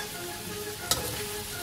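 Pork belly stir-frying in a wok, an even dense sizzle held close and steady with one sharp tossing scrape near the middle, and no voices.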